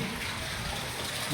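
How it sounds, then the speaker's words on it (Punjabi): Water gushes steadily from a just-started pump, a dense continuous rushing flow, close and loud, with no speech over it. "ਚੱਲ ਪਿਆ ਪਾਣੀ"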